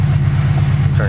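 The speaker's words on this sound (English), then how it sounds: "Turn the system off. It returns back down to idle." A turbocharged car engine with its anti-lag system switched off, settling to a low, steady idle rumble close by, with someone talking over it.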